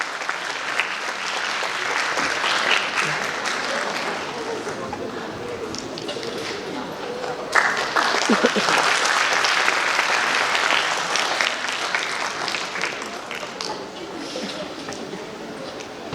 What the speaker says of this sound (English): May we have a huge round of applause.